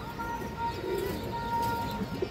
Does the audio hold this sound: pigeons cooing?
yes